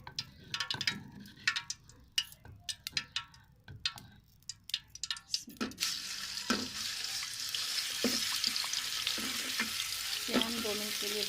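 Ginger garlic paste hitting hot ghee in a pan, starting with scattered crackles and pops, then a dense, steady sizzle of frying that carries on to the end, with occasional stirring clicks.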